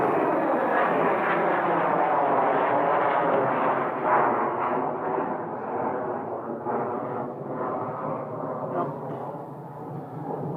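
A fixed-wing airplane departing Scottsdale airport roars loudly and steadily, its engine noise gradually easing as it pulls away, with no talking.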